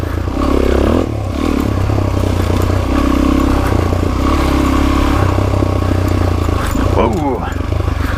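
An off-road vehicle revving hard in first gear on a wooded rocky trail, its engine roaring steadily and close, with clattering over rough ground and people talking through it.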